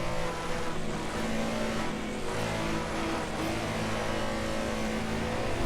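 A historic Porsche GT race car engine in the Assetto Corsa game roars steadily and loudly throughout, a sustained high-pitched mechanical drone with slight shifts in pitch as it runs near.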